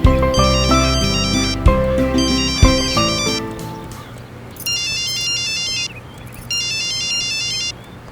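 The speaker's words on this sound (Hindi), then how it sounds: "हौसला फोन कर रहा है।" A phone ringtone in a TV drama scene plays loud, its melodic electronic phrase repeating several times, then shifts to a high, repeating ringing pattern with two bursts in the quiet that follows.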